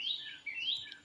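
Pet birds kept indoors chirping: a short burst of quick, high tweets and trills, moderately faint and close, with no voices.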